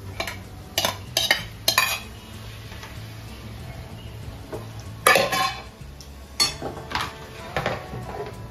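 Prawns go into a pan of onion and tomato for a Malvani-style masala and get stirred: a metal spoon scrapes and clatters against the pan in scattered bursts over a faint background hum, with no talk.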